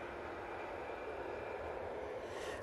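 An Easyjet Airbus A320-200 arriving at Manchester Airport, heard as a steady, faint, distant engine rumble and whoosh with no break.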